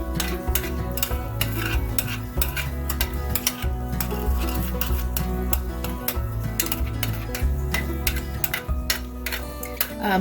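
A dip of cream cheese, Rotel and no-bean chili with sausage is stirred in a pot, a utensil clicking and scraping against the sides in a steady rhythm over a soft, thick bubbling.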